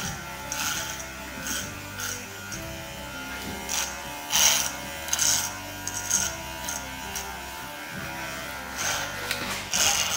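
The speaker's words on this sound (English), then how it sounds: "I'm using now the clipper to style" An electric hair clipper buzzes steadily while grooming a Westie-type dog, humming close with brief louder surges and small changes in pitch as it moves through the coat.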